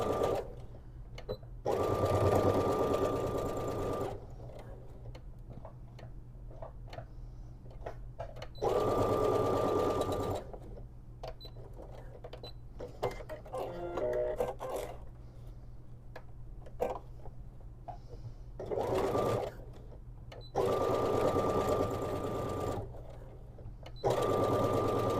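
A sewing machine stitches a crossbody bag in bursts of fast, even whirring, each lasting a few seconds and separated by quieter pauses with light handling clicks.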